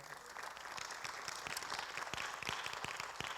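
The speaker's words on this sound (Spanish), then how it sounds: "Dan un aplauso al Señor." Brief, quiet applause from a church congregation clapping to praise the Lord, with a few distinct hand claps audible within the soft, distant clatter.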